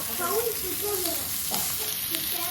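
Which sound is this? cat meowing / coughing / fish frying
fish frying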